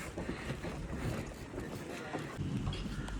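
A boat runs at a jetty on the way to a mangrove forest near Port Blair, with continuous rumbling and wind buffeting the microphone and no voice.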